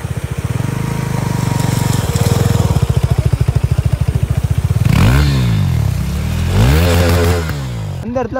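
Motorcycle ridden off-road through deep mud on a rough trail, engine running loud and close throughout with uneven revving, two strong surges as the rider pushes through, plus some clatter and scraping.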